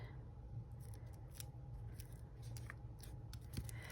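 Scissors snip through paper while cutting out a printed ephemera image, a quiet run of crisp, irregular clicks over a steady low room hum.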